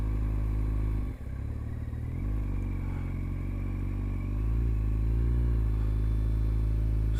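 2008 Kawasaki Z1000 motorcycle accelerating at higher revs in second gear, a loud close engine drone that dips briefly, then rises and holds steady as the revs climb, with no talking over it.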